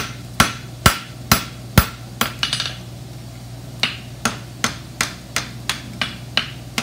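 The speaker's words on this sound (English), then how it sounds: "Forge your nice heels on it." Horseshoe heels are forged with a hammer on an anvil, giving sharp ringing blows at a steady, slightly uneven pace, some doubled, heard up close with nobody speaking.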